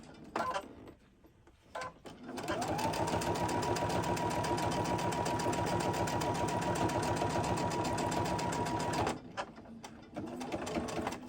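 A foot-pedal sewing machine stitches fabric for a quilting project, starting after a few soft knocks and running a steady, close, loud whirring chatter of rapid needle strokes for about six seconds before stopping, then brief handling sounds.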